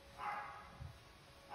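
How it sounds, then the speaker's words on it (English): A pet dog barks indoors while cleaning staff are in the house, giving two separate moderate barks spaced apart over a quiet room background. "She keeps barking because the cleaning ladies are here."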